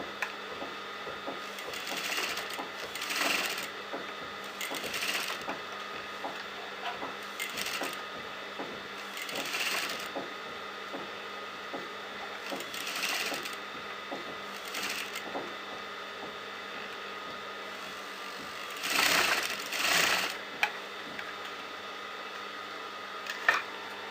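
A sewing machine top-stitches a neckline, giving a quiet, steady stitching hum with repeated soft bursts every few seconds and a louder run near the end, close but faint.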